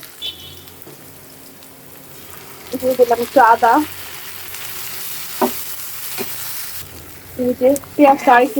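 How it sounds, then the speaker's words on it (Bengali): An egg fries in a pan with ginger and spices, with a low steady sizzle broken by short, scraping bursts of stirring. "হালকা মশলা দিয়ে ডিমটা ভোনা করবো"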